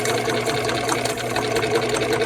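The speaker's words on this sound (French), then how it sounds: "la machine fait des points droits, quelques points droits, puis à intervalles réguliers, fait un point zigzag" A Bernina Record 7 sewing machine under repair runs steadily, stitching a few straight stitches with a zigzag stitch at regular intervals, a loud close continuous mechanical whirr and rapid clatter with no pauses.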